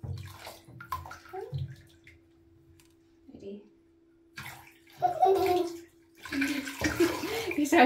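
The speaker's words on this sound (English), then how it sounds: "That was me pouring water on her back and it tickles her." Water poured over a young child's back in a bath, splashing and trickling in a few bursts between quiet gaps, with a voice and an adult talking nearby.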